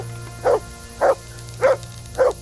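A dog barks in the medieval game Kingdom Come: Deliverance, four evenly spaced mid-pitched woofs over a low steady hum.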